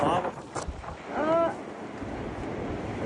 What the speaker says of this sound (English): Damaging gusts of wind are expected in the coming hours.